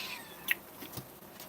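Faint, brief meows from a house cat at home, a couple of soft calls in a quiet room with low background noise.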